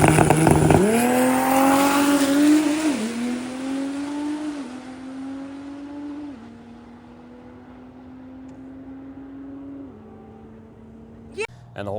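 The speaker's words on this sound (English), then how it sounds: "once those turbos kick in, it rips" 2026 Dodge Charger Scat Pack Six Pack with a 550 hp twin-turbo inline-6 pulling hard, engine note rising loud and close through several upshifts, then fading quieter as it settles at speed.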